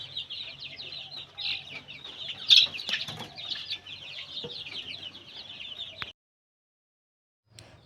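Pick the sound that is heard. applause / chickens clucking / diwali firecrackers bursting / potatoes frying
chickens clucking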